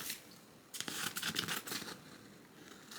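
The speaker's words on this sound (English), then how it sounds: "I'm going to cut around" Scissors cut around a free-standing embroidered lace bookmark in a short burst of crisp snips and rustling near the middle, then fade to quiet.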